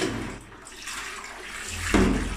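Toilet flushing in a newly built rural house, a close rushing whoosh of water that swells and surges louder toward the end of a short burst.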